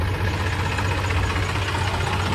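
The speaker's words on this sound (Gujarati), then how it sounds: "આપણે ટ્રેક્ટર જોઈ લો" A tractor engine runs steadily in a farm field during plowing, a continuous low rumble with a knocking, idling character, close and constant with no talk.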